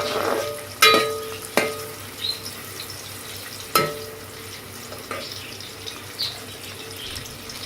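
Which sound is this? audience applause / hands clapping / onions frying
onions frying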